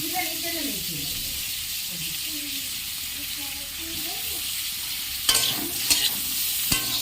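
Paneer pieces hitting a hot pan and stir-frying, a steady soft sizzle under a voice talking, with a few sharper scraping clatters of a spatula toward the end.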